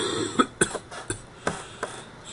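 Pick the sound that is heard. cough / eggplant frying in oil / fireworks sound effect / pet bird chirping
cough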